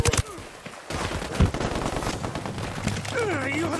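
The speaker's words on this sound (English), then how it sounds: "We're opening fire on these shitheads." Bursts of gunfire in the Ghost Recon Wildlands video game, loud rapid volleys over a dense battle background, with a voice speaking amid the shooting.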